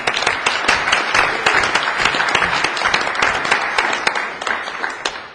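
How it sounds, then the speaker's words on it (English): Audience at a network operators' community meeting applauding, loud and close with sharp individual claps standing out in a continuous, even burst. "So a round of applause for Ren."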